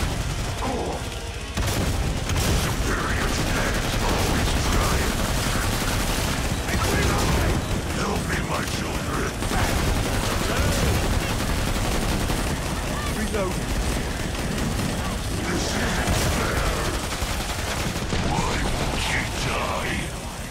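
An enemy fires on the player in the video game Killing Floor 2, a nonstop barrage of loud, rapid gunfire and booms mixed with chaotic combat noise throughout.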